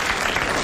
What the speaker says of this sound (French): Eh bien, vous applaudissez Monsieur Verhaden de Tournai.